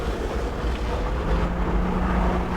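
A 4x4 crawling in low-range second gear with the rear differential locked, driving upstream against the water over thick loose stones, gives a steady low rumble mixed with rushing water and wind.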